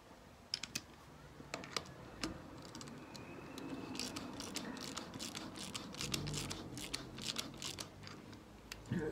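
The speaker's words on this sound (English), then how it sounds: "let's just see if I can wind that out on a socket" A ratchet socket winds out a repaired spark plug thread on a Honda CL350, giving faint, quick clicks of the pawl in short bursts over quiet workshop background, with no talking.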